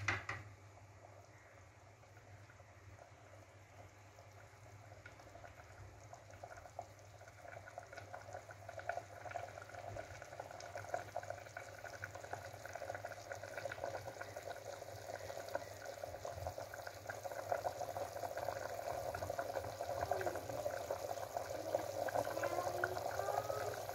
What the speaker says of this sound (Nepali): अब यसलाई मजाले बुकबुक उम्लिनु पर्छ यो मासु।